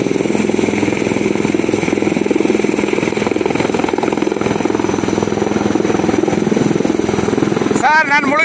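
A navy rescue helicopter flying during flood rescues, a loud continuous rotor throb and engine roar that fills the scene, with a brief burst of other sound near the end.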